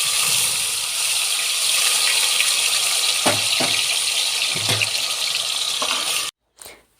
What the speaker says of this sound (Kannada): ಮುಂಚೆನೇ ನಾವು ಮಾಡಿದಂಥ ಮಸಾಲೆನ ಎಣ್ಣೆಲಿ ಫ್ರೈ ಮಾಡ್ಕೊಳ್ಳೋಣ